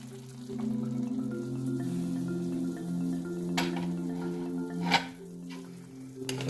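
Ginger garlic paste sizzles softly in a pan for Karachi chicken while it is stirred, with a low hum in the background and a couple of sharp clinks from the utensil.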